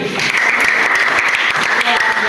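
A Class XI audience gives steady, fairly loud applause after a group's presentation, with voices mixed in under the clapping.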